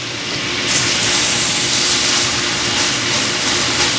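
Salmon searing flesh side down in a hot skillet, a loud sizzling hiss that swells up as the fish hits the pan and then holds steady, crackling continuously.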